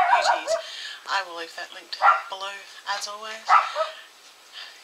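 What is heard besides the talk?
dog barking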